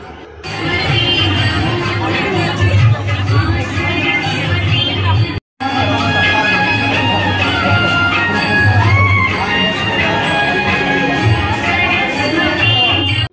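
Dense babble of a large crowd queuing at a temple during a Basant Panchami celebration at KGMU, many overlapping voices close by, steady throughout with one brief cut near the middle.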